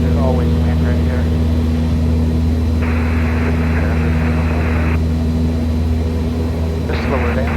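A light airplane's piston engine drones steadily while climbing out after takeoff, a loud constant hum with harmonic tones filling the cabin, and intermittent radio-like tones and chatter sounding over it.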